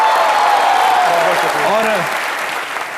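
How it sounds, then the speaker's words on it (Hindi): A studio audience on Comedy Nights With Kapil gives loud, dense applause, with a host's voice briefly heard over it before the clapping gradually fades. "इनके लिए जोरदार तालियां।"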